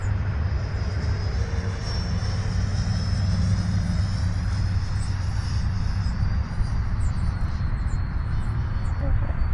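A Freewing Mirage 2000C 80mm EDF RC jet on approach to a short runway gives a steady, distant ducted-fan whine over a constant outdoor rumble, holding a fairly even level throughout.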